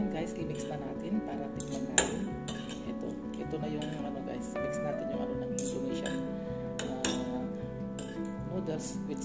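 Metal cutlery clinks and scrapes against a bowl while Indomie instant noodles are mixed, with scattered sharp taps, a louder knock near the start, and steady close stirring under ongoing talk.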